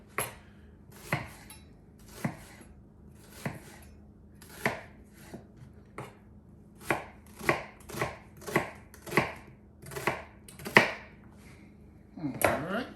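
Celery and other vegetables for Louisiana dirty rice chopped with a kitchen knife on a cutting board, about twenty crisp, close knife strikes, spaced at first and then quickening into a denser run, with no talking.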